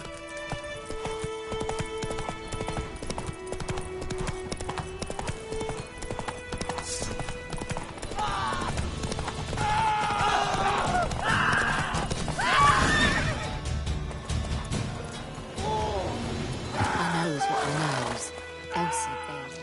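Horse hooves clip-clopping at a gallop with loud neighs and whinnies in The Witcher video game, steady hoofbeats under game music and a voice talking over it.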